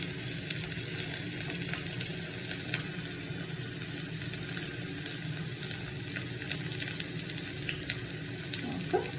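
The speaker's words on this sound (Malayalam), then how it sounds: "കടുക് ഇട്ട് കൊടുത്തു. കടുക് പൊട്ടുന്നുണ്ട്." Mustard seeds spluttering in hot oil while tempering for Kerala mango pulissery: a continuous close sizzle with sharp little pops and crackles scattered throughout.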